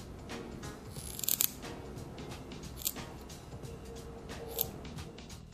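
Scissors snipping an atomizer wick on a rebuildable dripping atomizer, a few small close crisp cuts around a second in, with lighter clicks later in a quiet room.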